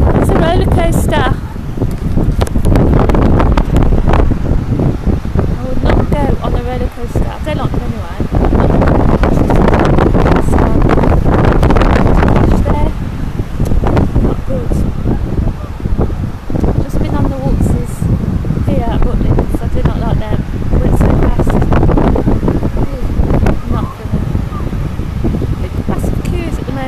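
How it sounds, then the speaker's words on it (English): Strong wind buffets the microphone at Skegness beach, a loud, continuous roar with gusty surges throughout, while people talk over it. "it's really windy, but it's nice and warm."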